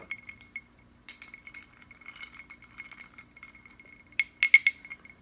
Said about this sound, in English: And stir. Got my little stirrer here.